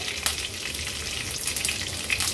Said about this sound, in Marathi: राई आणि जिरं तडतडलं